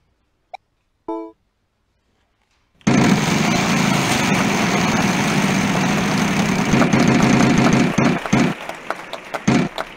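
The prize wheel spins in the Wheel of Fortune game on Nintendo Wii, a sustained loud rattling whir of clicking pegs over crowd noise that slows into separate ticks before stopping.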